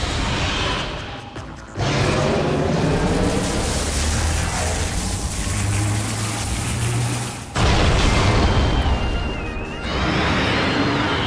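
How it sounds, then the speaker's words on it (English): Power bombs detonate during a boss fight in Metroid Prime 2: Echoes, setting off dense, roaring explosions. A sharp burst near the start and another later are separated by sustained rumbling, with game music and effects woven through. "The dominant strategy here is to spam power bombs once its tentacles are revealed."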